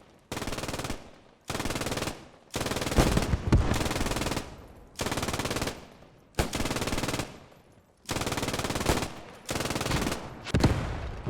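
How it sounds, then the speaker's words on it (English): MG-42 machine guns fire in the World War II game Post Scriptum in long, loud sustained bursts, roughly eight rattling volleys separated by short pauses, with no talk. "You can hear the MG-42s below me."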